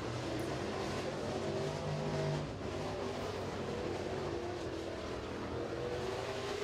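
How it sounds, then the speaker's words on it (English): A crate race car laps the 3/8 mile Crossville Speedway, its engine a continuous distant roar that rises and falls slightly as it circles the track. "He's going to see if he can get that Warrior machine around the 3/8 mile here at Crossville Speedway."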